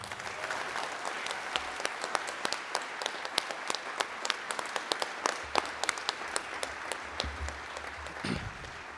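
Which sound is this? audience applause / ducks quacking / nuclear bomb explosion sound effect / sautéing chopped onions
audience applause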